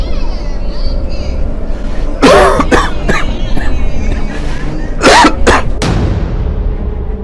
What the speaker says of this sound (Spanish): no se me quita la tos esa